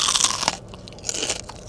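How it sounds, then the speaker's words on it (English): A crunchy fried onion ring from Sonic is bitten into with a loud, close crackling crunch, followed by a few quieter crunches as it is chewed, with no talking. "This is why I like the onion rings from Sonic,"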